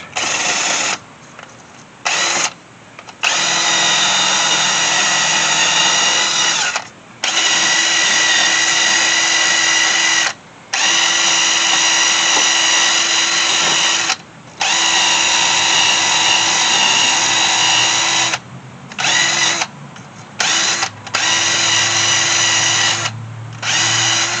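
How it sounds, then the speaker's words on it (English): Power drill with a wire brush scraping rust off the front brake hub of a 2009 Ford Focus, a loud sustained whirring grind broken by several short pauses where the drill stops and restarts. "you don't have to have it on a drill. You can use one of these too. And just scrape it off."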